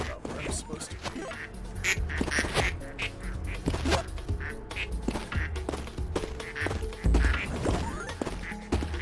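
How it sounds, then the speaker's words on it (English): Ducks in a video game quack again and again over a cluttered mix of game noise and crashes, with someone talking over much of it. "Ducks will forever be sent to the pit. There's no escape."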